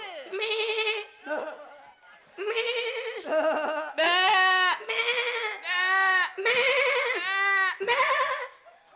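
A person mimics a young goat, letting out about eight wavering, nasal bleats in quick succession with short gaps between them during a Tamil village stage drama, loud and close.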